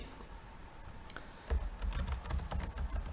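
Computer keyboard typing a Minecraft command, a run of close rapid clicking keystrokes that grows busier and louder partway through, no voices.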